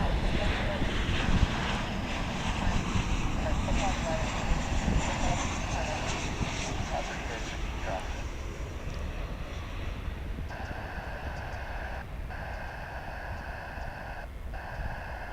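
A fixed-wing airliner on the flight from Querétaro, arriving at DFW International Airport on a foggy morning, makes a steady broadband engine roar. It stays loud and continuous throughout, blended with wind rumble on the microphone.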